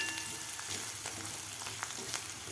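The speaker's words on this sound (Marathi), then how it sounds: "कोथिंबीर सुद्धा व्यवस्थित आपल्याला परतून घ्यायची आहे कांद्यामध्ये" Onion and coriander frying in a pan for a tomato amti, a steady close sizzle with faint crackles and occasional stirring clicks, no talk.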